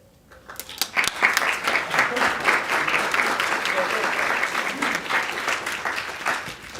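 An audience at an eighth-grade graduation ceremony breaks into steady applause that swells quickly and holds for several seconds, a continuous wash of clapping from a room full of people with a few voices mixed in.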